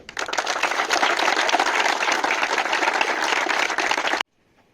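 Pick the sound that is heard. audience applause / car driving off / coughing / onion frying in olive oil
audience applause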